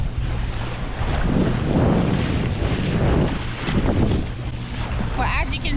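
A sailboat motor sailing under engine at sea between the Bahamas and the USA. Steady low engine drone mixes with rushing wind and water noise throughout, loud and continuous, with a brief voice near the end.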